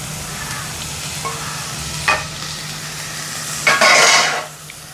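Onions with dried fish being sautéed in a pan, a steady sizzle with scraping stirs of a spatula against the pan, including a longer loud scrape near the end.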